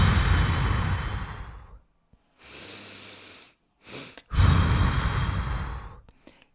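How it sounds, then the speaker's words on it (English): Controlled breathing exercise: two quick inhales, the second a short sneaked-in top-up, followed by a long, loud extended exhale, repeated as a clear close breathing pattern with no talking. "the first one will be a big breath in, then you'll sneak in a little bit more air with the second exhale, followed by the big extended exhale"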